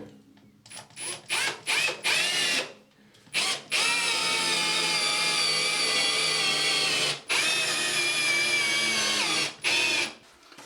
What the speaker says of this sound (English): And then we can drive in the other 2 screws.